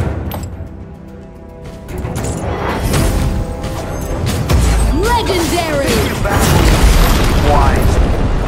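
A heavy crashing boom as a tower is destroyed in the video game Arena of Valor, loud and rumbling amid layered game effects, with voice announcements over it.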